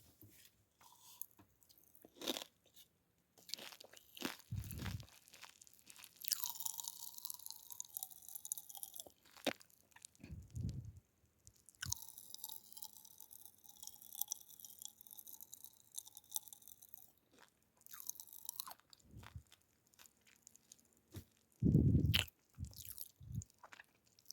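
Pink strawberry-flavored popping candy being eaten, with crunchy bites and chewing, soft fizzy crackles and a louder burst of crunching near the end, close to the mic and with no talking.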